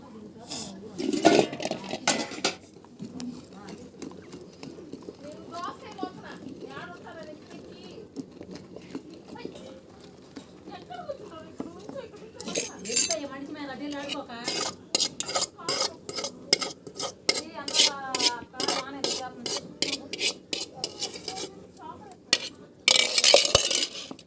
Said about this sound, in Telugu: మా ఇవాళ గోంగూర పచ్చడి నూరుతున్నాను